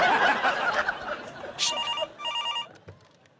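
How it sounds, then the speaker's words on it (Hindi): A telephone rings in two short, bright trilling bursts, fairly close and clear, after a noisy stretch of chuckling and chatter that fades as the ringing begins. "किसका फोन था?"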